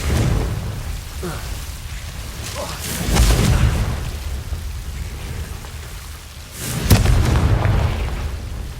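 Confringo fire-curse spell blasts in the video game Hogwarts Legacy, heard as two booming bursts about three and a half seconds apart over a rumbling, rain-like ambient bed.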